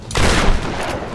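Gunfire in the 2013 Tomb Raider video game: a loud, close burst of shots for a headshot, with dense booming crackle that sustains through the moment and tails off slightly.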